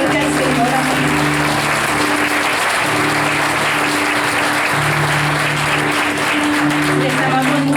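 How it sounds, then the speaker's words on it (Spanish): A church congregation applauds loudly and steadily throughout. A sustained tonal sound, probably music or a voice, runs underneath the dense clapping. "Den un aplauso fuerte al Señor."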